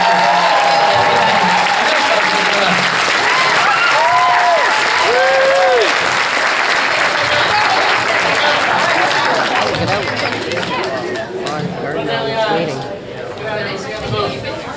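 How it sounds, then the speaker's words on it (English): A large Fan Expo Toronto crowd applauds actor Aaron Ashmore with loud sustained clapping and cheers. Voices and whoops ring through the applause before it thins out toward the end. "But give a big round of applause for Aaron Ashmore."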